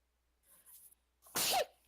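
A single sharp sneeze bursts out loud and close after a moment of quiet, with faint murmuring before it, during a tabletop role-playing game session.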